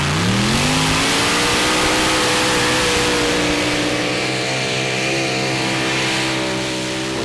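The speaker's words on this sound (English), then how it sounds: "And the first tractor in the pull-off is Exception." A mini modified pulling tractor's engine revs hard during a pull at the Eurocup tractor pulling finals in Brande, Denmark, its loud rising roar climbing in pitch and holding steady, close and continuous.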